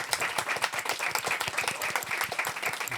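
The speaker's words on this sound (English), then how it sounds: "Can I have a round of applause for the panel?" An audience claps for a panel at a talk event, a dense, steady round of applause close by that continues without a break, with no voices over it.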